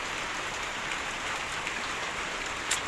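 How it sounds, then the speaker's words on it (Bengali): Steady rain patters on surfaces all around, a dense even hiss with a brief louder spatter near the end. "তো বৃষ্টি শুরু হয়ে গেলো"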